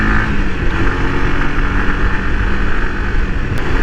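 A Honda CBR150R sports motorcycle engine droning steadily while riding at speed, loud and continuous with heavy wind rush over it and no voices.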